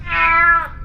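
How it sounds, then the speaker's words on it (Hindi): A cat gives one short, loud, tonal meow that sounds as if it is played through a speaker, close and unaccompanied by other sounds. "जब उस बिल्ली की आवाज दोबारा से सुनाई पड़ी"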